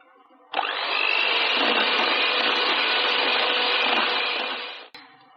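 An electric mixer whips cream at medium speed for eggless butterscotch ice cream, starting abruptly into a loud, steady motor whir that holds for about four seconds, then cuts off.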